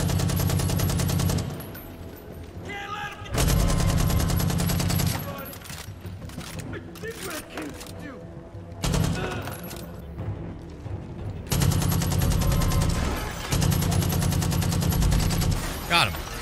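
Gunfire in the video game Far Cry 5, loud bursts of rapid automatic shots in several long volleys separated by brief quieter gaps with clinking mechanical sounds.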